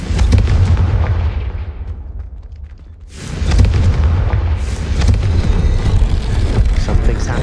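The Confringo fire spell is cast in Hogwarts Legacy, producing heavy booming blasts and a sustained roaring rumble that dips briefly before surging back loud.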